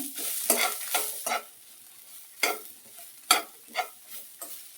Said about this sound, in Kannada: 1 ಬಟ್ಲು ತೆಂಗಿನ ತುರಿ ತಗೊಂಡಿದ್ದೀನಿ ನಾನು. ಇದನ್ನ ಒಂಚೂರು ಹುರ್ಕೊಳ್ತೀನಿ.